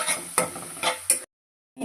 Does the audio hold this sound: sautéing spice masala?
yes